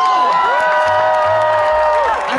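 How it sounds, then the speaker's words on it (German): Concert crowd in Braunschweig applauding and cheering loudly and steadily, with scattered whoops and shouts over a sustained tonal hum throughout. "Leute, das ist ein lauter Applaus."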